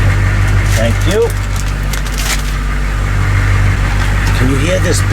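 GM 6.2 diesel engine idling with a deep, steady exhaust rumble, loud and continuous throughout, while people talk intermittently over it.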